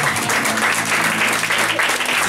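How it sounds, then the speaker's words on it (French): A church congregation applauding to acclaim the Lord, with dense, steady clapping from many hands filling the room, loud and continuous, with voices mixed faintly underneath. "On va acclamer le Seigneur"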